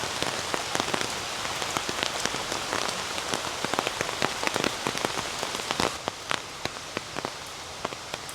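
Heavy rain pours steadily onto surfaces, a dense, loud hiss with individual drops spattering close by throughout, no voices.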